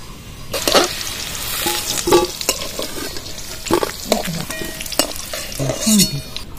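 Gram flour and potato pieces fry in a hot pan with a steady close sizzle, broken by stirring scrapes and a few clinks of utensil against the pan.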